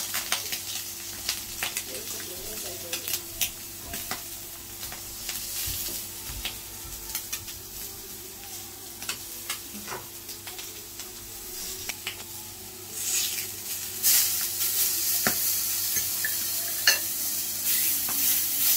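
Mushrooms fry in a pan, with a steady sizzle under repeated scraping stirs and clinks of the utensil against the pan, continuing throughout at close range.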